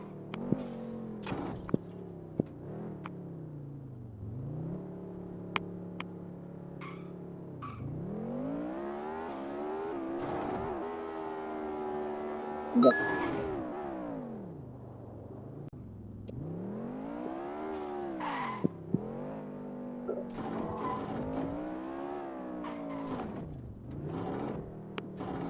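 A car engine revving over and over, its pitch climbing and falling in long sweeps, with sharp clicks and brief bursts of noise scattered throughout.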